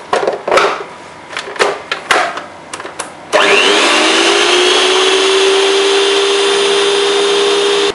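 An electric mixer blends icing sugar into beaten egg whites for cupcake icing, starting after a few soft clatters and then whirring loudly and steadily with a constant high motor whine.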